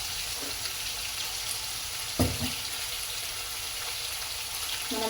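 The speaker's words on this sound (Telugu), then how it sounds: "అల్లం వెల్లిపాయ పేస్ట్ కొంచెం ఫ్రై అయిన తర్వాత" Ginger garlic paste fries in hot oil in a pan, giving a soft, steady sizzle with a couple of brief clatters of stirring, fairly quiet and with no voices.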